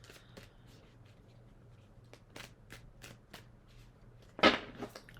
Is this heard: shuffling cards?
yes